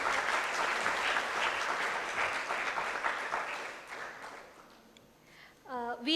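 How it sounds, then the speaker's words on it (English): An audience at a National Space Day event at IIT Kanpur applauds the panelists with loud, sustained clapping that slowly dies away, followed by a voice speaking over a microphone at the end. "Can we once again have a huge round of applause for all our panelists?"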